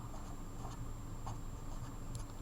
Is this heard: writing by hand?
yes